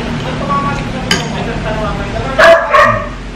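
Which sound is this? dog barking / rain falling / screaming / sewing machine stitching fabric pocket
dog barking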